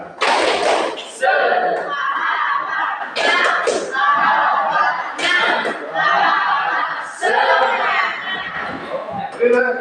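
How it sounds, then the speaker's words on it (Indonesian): A class performs the 'tepuk semangat' clapping chant, bursts of sharp rhythmic claps alternating with loud shouted group chanting, close and energetic, repeating in several rounds. "Tepuk semangat"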